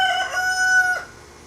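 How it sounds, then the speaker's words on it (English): A rooster crows once nearby, a loud drawn-out call that rises, holds its strained tone and then breaks off abruptly, followed by quiet. "This rooster's crowing his ass off for some reason."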